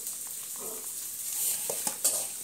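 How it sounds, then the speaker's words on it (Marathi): Ground pistachio, cashew, almond and fig roasting in a pan, a quiet steady sizzle with soft stirring scrapes and a couple of light utensil taps. "पिस्ता, काजू, बदाम, अंजीर हे सगळं आपण बारीक करून घेतलेलं आहे. त्याला आपण भाजून घ्यायचं आहे."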